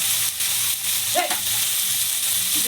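Bottle gourd frying in a pan with fish head, a steady broadband sizzle throughout with a brief stirring scrape near the middle, close and fairly loud, no talk.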